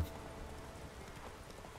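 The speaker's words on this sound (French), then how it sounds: "Oh, plein de chevaux. c'est des chevaux." Horse hooves clip-clopping in The Witcher 3, a steady run of soft, even hoofbeats under a constant game-ambience bed, fairly faint and with no one speaking.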